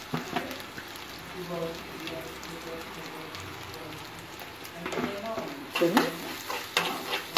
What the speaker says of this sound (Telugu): అల్లం వెల్లుల్లి పేస్ట్ వేయించుకొని పచ్చివాసన పోయే వరకు వేయించుకున్నాం కదా.